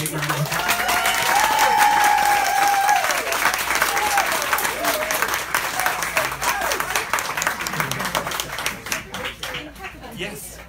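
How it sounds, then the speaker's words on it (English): An audience claps loudly for authors Delilah Dawson and Kevin Hearne at a book event, a dense burst of applause that peaks early then gradually thins and fades, with a voice heard over it at the start. "Let's give them a big round of applause."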